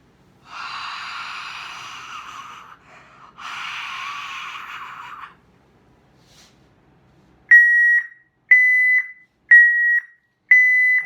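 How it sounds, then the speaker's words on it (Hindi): After two long breathy exhales onto the sensor, a BM25 multi-area gas detector's low-oxygen alarm sounds four sharp, evenly spaced beeps, loud and close. "अभी अलार्म 1 आप देख रहे हैं बज रहा है"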